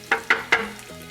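Shrimp scampi with pepper flakes being stirred in a hot pan: three quick spatula scrapes over a low sizzle, close and brief.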